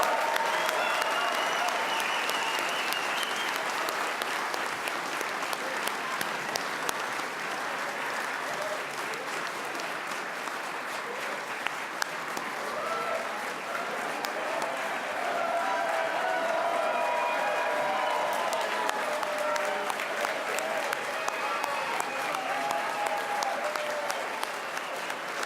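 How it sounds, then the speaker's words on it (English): An audience at a State of the State address claps in sustained, even applause, dense and loud across the whole stretch with occasional sharper claps, and a few voices are faintly heard beneath it. "Let's give them a round of applause"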